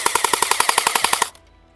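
A toy gel-ball M4A1 rifle fires in rapid automatic bursts, about fourteen sharp evenly spaced shots in just over a second, then stops abruptly.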